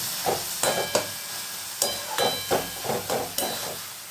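Bathua greens (betho shak) frying and being stirred in a pan, with a steady sizzle broken by repeated scraping strokes of the spoon, close and alone.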